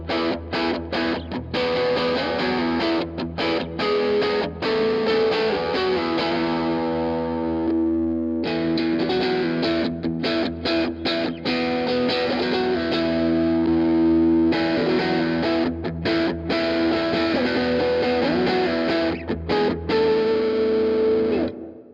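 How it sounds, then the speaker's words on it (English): Custom Valiant electric guitar on its neck pickup, run through a Lichtlaerm Audio distortion pedal, rings out loud chords and sustained notes with brief gaps for about twenty seconds, with no voices. "Anyway, neck pickup sounds a bit like this."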